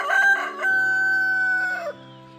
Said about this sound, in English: There's a rooster. Check this out. There's a rooster.